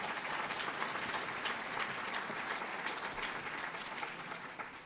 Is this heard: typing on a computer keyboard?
no